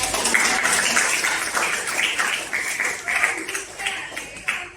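A classroom of students applauding during an Indonesian lesson on biography texts: steady, dense clapping from many hands close by, lasting throughout, with voices chattering and calling out over it.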